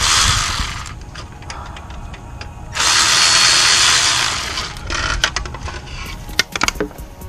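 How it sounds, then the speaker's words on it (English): Power tool backing out the last heat shield bolt on a BMW E90 335i with the N54 engine, bursts of high whirring with ratcheting clicks, close and loud, alternating with quieter workshop noise. "So I'm taking that last heat shield bolt out."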